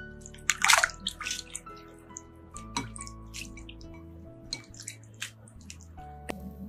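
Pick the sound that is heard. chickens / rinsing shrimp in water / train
rinsing shrimp in water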